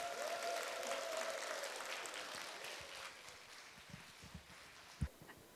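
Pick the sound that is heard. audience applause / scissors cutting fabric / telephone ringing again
audience applause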